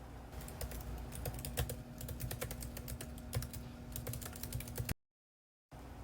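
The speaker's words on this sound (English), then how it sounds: "She starts to type right away to get as much done as she can as fast as she can." Fast, steady typing on a computer keyboard, a dense run of close key clicks over a low hum before cutting out abruptly.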